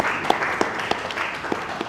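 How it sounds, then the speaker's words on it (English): Applause for the organizers at a football press conference, a crowd clapping steadily and moderately close for a couple of seconds. "please, first of all, a round of applause for the organizers of this event."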